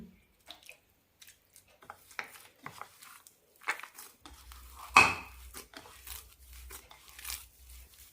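Semolina murukku dough with a pinch of asafoetida being mixed by hand in a bowl, heard as soft scattered squishes and utensil clinks at close range, with a brief louder scrape in the middle and faint low rumbling near the end.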